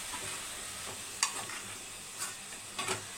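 Eggplant frying in oil with garlic, a soft steady sizzle under a few sharp scrapes and clinks as the pan is stirred, close and fairly quiet, with no talk.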